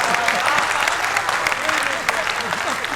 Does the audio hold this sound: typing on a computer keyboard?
no